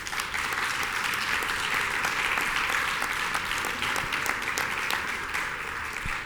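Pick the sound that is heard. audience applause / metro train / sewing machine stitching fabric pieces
audience applause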